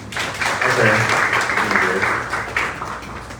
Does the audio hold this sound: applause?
yes